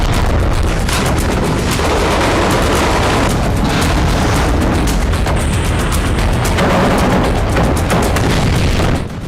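Heavy booms and bursts of gunfire from Israeli attacks in Gaza, with dense, loud, continuous rumbling and repeated sharp blasts throughout, no voices.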